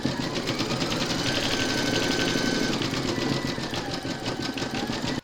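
An embroidery machine stitches an owl appliqué beak, a fast steady mechanical chatter of needle strokes running continuously and close, ending abruptly.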